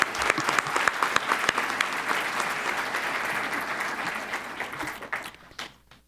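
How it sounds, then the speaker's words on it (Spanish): Loud applause from an audience at a university event honoring teachers, dense clapping that swells early, holds, then thins out and fades over the last second. "si son tan amables de acompañarme con un fuerte aplauso para las maestras y maestros"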